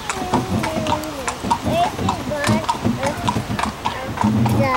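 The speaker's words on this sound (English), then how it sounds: "this is our horse and carriage ride." A horse's hooves clip-clop in a steady rhythm as it pulls a carriage through a square in Seville, Spain, close and clear with a brief whinny-like tone and people talking throughout.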